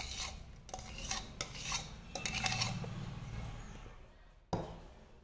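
A utensil scrapes a beaten egg mixture for a brownie kit batter into a bowl, giving soft, quiet scraping and clinking against the dish, with a sharper knock near the end.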